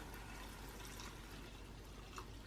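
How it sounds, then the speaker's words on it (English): Four cups of water poured onto quinoa, a faint continuous rushing pour that stays steady and close throughout, with no talk. "I'm going to add my 4 cups of water"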